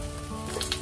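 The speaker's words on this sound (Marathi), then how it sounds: "थोडंशा ऑइल मध्ये लसूण टाकणार आहे, ते थोडेसे तळले की" Garlic fries in a little oil with a soft, continuous sizzle, heard briefly and close with no voices.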